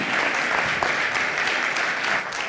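Dense, steady applause from a conference audience after a closing speech on development implementation, many hands clapping together at full strength throughout.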